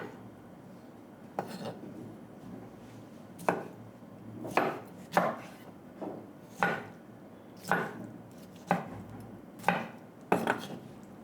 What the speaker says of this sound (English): So you cut the pineapple into 4.